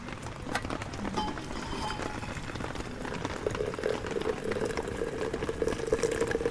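Water heating in a pot for coffee at a campsite, with a soft simmering bubble building into a steadier boil, faint and close, and no voices.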